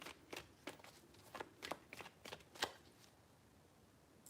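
Tarot deck being shuffled by hand, a series of about eight crisp riffling bursts in an irregular rhythm, close and moderately loud, fading into a quiet tail with no talking.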